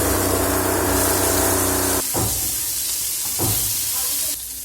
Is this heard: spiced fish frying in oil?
yes